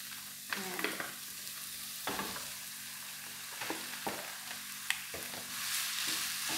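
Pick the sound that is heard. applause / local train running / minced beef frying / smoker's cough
minced beef frying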